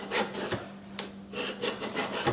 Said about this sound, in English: you take your file with both hands and just scrape down on the knife